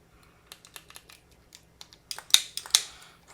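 Stiff buttons on a Thrustmaster HOTAS Warthog flight stick being clicked, a series of sharp, close plastic clicks, quiet and spaced at first, then louder and snappier toward the end.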